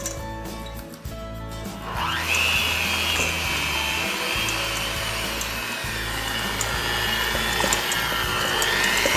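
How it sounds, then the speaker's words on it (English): Batter flavored with a teaspoon of Mexican vanilla is beaten with an electric mixer, a loud continuous whirring drone that starts after a brief quieter moment and runs steadily to the end. "Then let's mix this some more."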